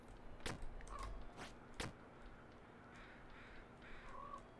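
Crow-like cawing from a bird in a video game, a few sharp, distant-sounding calls over a steady low hum of game ambience, with no talking.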